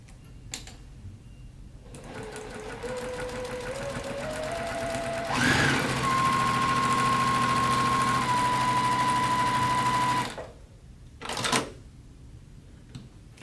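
A JUKI TL series sewing machine stitches steadily for about five seconds at close range, a loud continuous mechanical whir with a sustained tone, then stops, with a brief handling clatter afterward.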